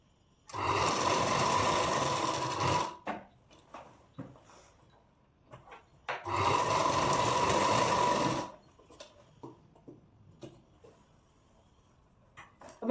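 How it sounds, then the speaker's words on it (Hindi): A sewing machine stitches a blouse seam at half an inch in two loud, steady bursts of fast whirring, each about two seconds long, with quiet fabric handling and small clicks between them and no speech. "यहाँ पे मैं 1/2 इंच पे ऐसे सिलाई लगा दूंगी"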